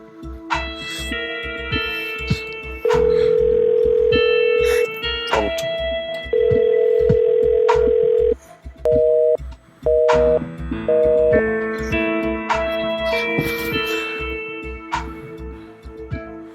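Electronic tones beep in repeated steady bursts over a musical background, a telephone ringing out unanswered.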